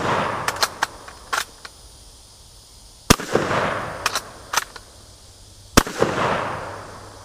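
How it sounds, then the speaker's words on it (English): A J.C. Higgins 583.20 bolt-action 12-gauge shotgun fires several sharp, loud outdoor blasts, including two especially strong reports, with smaller cracks and echoing tails between them and no talking. "we're just going to finish destroying this thing with this bolt-action 12-gauge shotgun"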